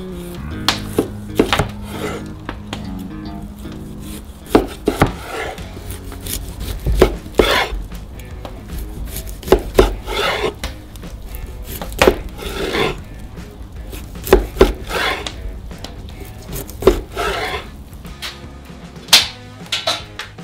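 Knife chopping through homemade ham on a wooden board, a steady series of sharp close knocks spaced about a second apart over a faint background hum, with no talk.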